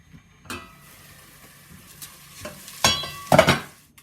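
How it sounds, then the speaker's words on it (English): Onions frying in a pan for wild garlic soup give a faint sizzle, broken by a few sharp stirring scrapes and utensil clatters that grow louder toward the end. "it's important to stir your onions from time to time."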